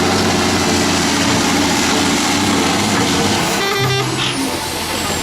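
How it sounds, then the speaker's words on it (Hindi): A toy tractor's engine sound plays loudly and continuously up close, a steady idling drone with a brief tonal change near the end before it cuts off abruptly. "ट्रैक्टर."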